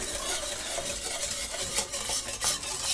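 A milk sauce for chicken fried steak bubbles and simmers in a pan, with soft stirring and scraping over a steady low sizzle, close and continuous, no talk.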